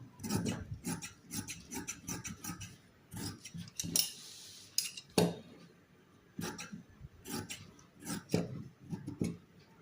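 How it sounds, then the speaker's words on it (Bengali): Scissors snip through fabric for a kameez sleeve in a steady run of close, crisp cuts, pausing briefly and then resuming in quick rhythmic bursts, with no voices. "এখান থেকে আমি হাতার কাপড়টা এইভাবে মাছ বরাবর এরকম দাগ দিয়ে কেটে নেবো"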